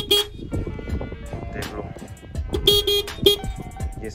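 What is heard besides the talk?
horn of Suzuki Access 125 scooter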